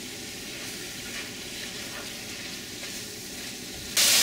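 Marinated bulgogi beef fries and is stirred and flipped in a pan, giving a steady, close sizzle that holds evenly throughout and brightens sharply at the very end, with no talking.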